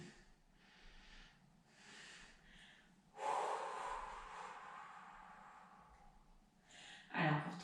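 Slow, deep breaths during a pilates exercise, with several soft breathing swells and then a stronger, louder exhale rushing through the middle. A sharp sniff-like breath follows near the end.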